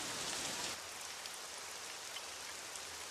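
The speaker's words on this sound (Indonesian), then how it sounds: "tiap hari selalu saja turun hujan" Steady rain pours down in a Doraemon cartoon scene, a continuous dense hiss that is slightly louder for the first moment, then settles into an even, unbroken patter with no voices.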